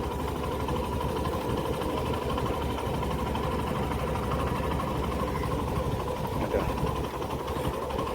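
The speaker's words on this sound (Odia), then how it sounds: "এটা মাছমরা বোটে" A fishing boat engine idles steadily at a busy fishing port, a continuous low mechanical drone with a constant hum that holds evenly throughout with no speech over it.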